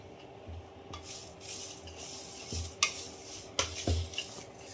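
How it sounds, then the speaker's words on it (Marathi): Homemade kitchen king masala spices are dry-roasted in a kadhai over a low flame. A spatula scrapes and stirs them in a soft, steady rhythm, with a few sharper clinks against the pan. "तर सगळं खरपूस भाजून घेते"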